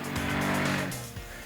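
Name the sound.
2010 Polaris Sportsman 400 ATV engine riding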